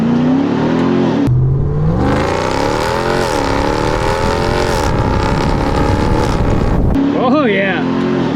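A Ram TRX pickup accelerates hard in first gear on a test drive, its engine roaring loudly as the pitch climbs through the revs, drops off briefly, then surges again.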